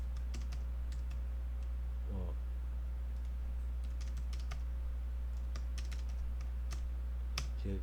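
Steady keyboard typing while entering values into panel-cutting software, soft irregular key clicks spread across the whole stretch over a constant low electrical hum, with a couple of brief louder bursts of activity.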